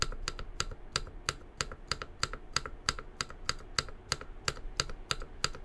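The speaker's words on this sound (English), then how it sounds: "Now I'm going to start pressing the spacebar." Spacebar on a Neo75 mechanical keyboard pressed over and over in a steady, even rhythm, giving about twenty sharp, close clacks with no talk.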